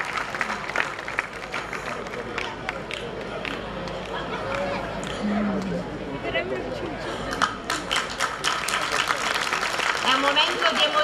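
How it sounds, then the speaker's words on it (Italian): An outdoor crowd at the Lavello International Folklore Festival claps warmly and steadily, with scattered shouts and chatter mixed in and the applause swelling louder toward the end. "facciamo un applauso caloroso"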